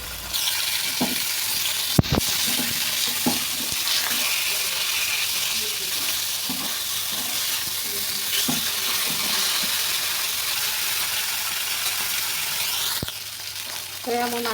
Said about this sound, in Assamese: মাছটো ভাজি কৰি লওঁ